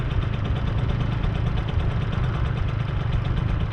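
A scooter engine runs close by with a steady buzzing, slightly knocking idle that holds even throughout, no voices.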